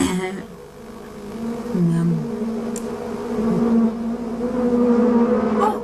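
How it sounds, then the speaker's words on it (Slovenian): Cartoon wasps buzzing around Fireman Sam's fruit tarts, a continuous droning hum with wavering pitch swells, loud and steady throughout, with a speaking voice underneath in places. "Ose, zginite! Nič vas nisem vabil, bežite stran."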